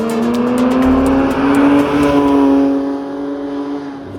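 A Porsche 992.2 GT3 Touring's naturally aspirated engine revs high and hard, a loud, steady rising wail with strong harmonics that holds for several seconds before easing slightly, close and alone with no talk.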